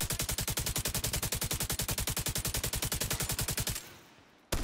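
Rapid, sustained automatic rifle fire from The Division 2 video game rattles loudly and evenly for several seconds, then cuts off, leaving a quieter tail before another burst begins.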